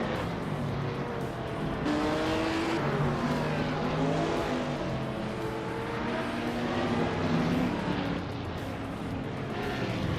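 Can-Am race cars in a video game roar around a tight-cornered track in close formation, their rising and falling engine notes layering into a steady, loud pack drone with overlapping pitch sweeps throughout.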